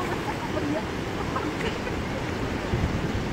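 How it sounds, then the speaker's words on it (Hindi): Water rushes steadily at the Kosi barrage in Ramnagar, giving a continuous broad roar with faint voices in the background. "यहाँ के पानी के जो साउंड है वो आप सुने"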